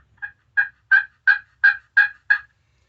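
Glass turkey call scratched with a carbon striker gives seven clear, evenly spaced yelps in a quick rising-then-steady series, close and crisp against silence.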